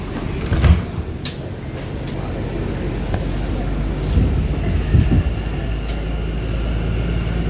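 A J train stands at Sutphin Boulevard station while its doors close, with a low steady rumble, a few sharp door and chime clicks near the start and scattered clanks over the hum.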